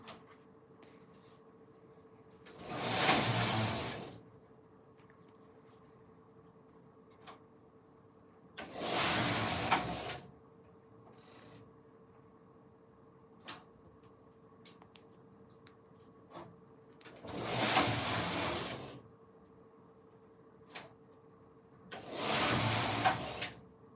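A Silver Reed knitting machine knitting a pattern: four loud swishing carriage passes, each lasting a second or two, separated by quiet gaps over a faint steady hum.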